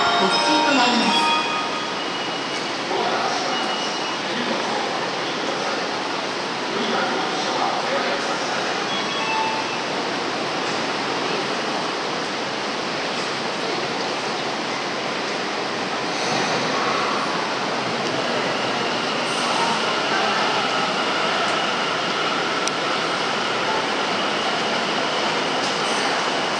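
A Tokyo subway train runs on into the Tokyu Toyoko line as an F Liner limited express, a steady wide rush and rumble of wheels and air from inside the car, with announcements spoken over it throughout.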